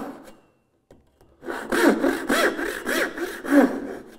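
A hand frame saw cuts a dovetail in wood with about five rhythmic push-and-pull strokes, each a rasping, close-up rub, following a brief quiet pause after a couple of light taps.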